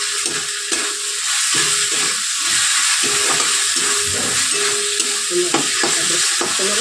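Spice paste frying in oil for a Bengali aloo dum potato curry, a steady bright sizzle with intermittent stirring scrapes and knocks of a spoon against the pan, close and continuous.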